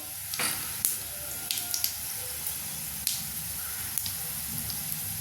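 Garlic sizzles in hot oil with dried red chillies, a soft steady crackle that sits low in the mix, broken by a few sharp clicks of stirring against the pan.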